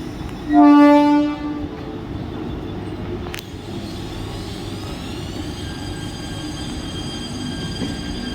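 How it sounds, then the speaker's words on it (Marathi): A Mumbai Central line slow local bound for Thane pulls into platform 1 with a loud, close horn blast near the start, then a sustained rumble of wheels and carriages with high squealing tones as it slows. "प्लॅटफॉर्म क्रमांक 1 पर आई हुई लोकल 10:20 की ठाणे जाने वाली धीमी लोकल है"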